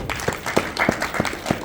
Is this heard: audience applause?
yes